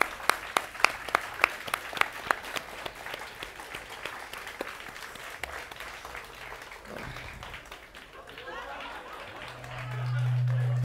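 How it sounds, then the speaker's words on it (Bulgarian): A live audience at a talk event applauds two guests with crisp, scattered claps that thin out and fade, leaving background chatter and voices. "Дами и господа, аплодисменти за нашите двама гости."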